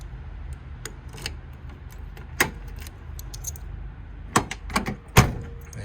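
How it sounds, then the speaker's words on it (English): A 1971 AMC Javelin SST's door being worked: a handle pulled, light metallic clicks and rattles, then a couple of solid thuds near the end as the door is shut tighter, close up over a quiet hum. "And close the door. I gotta close that a little bit tighter."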